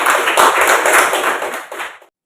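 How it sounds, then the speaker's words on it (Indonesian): Applause from an audience at a teacher-training class at Universitas Pendidikan Ganesha, loud and close, dense clapping that fades abruptly at the end. "Tepuk tangan untuk Bapak."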